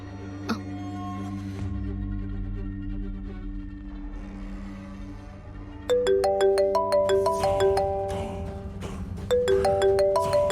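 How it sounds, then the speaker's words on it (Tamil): An outgoing mobile call rings in a Tamil TV drama scene: a low hum first, then two bright repeating ringtone phrases sound clearly, loud and alone with no talking. "குமரேச அண்ணனுக்கு ஃபோன் பண்ணி என்னன்னு கேட்டு பாப்போம்."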